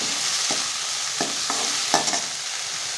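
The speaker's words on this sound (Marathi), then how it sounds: "आता हे चांगलं परतून घेणार आहे" Bay leaf, onion, cumin and mustard seeds frying in oil in a pan, a steady loud sizzle broken by a few short spoon scrapes as the mix is stirred.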